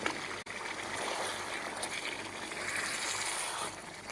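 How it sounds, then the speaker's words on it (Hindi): Potatoes drop into a pot of browned meat and spices, giving a steady sizzling hiss close by that holds throughout, with a brief dip near the start. "अब मैं इसके अंदर आलू डाल दूँगा"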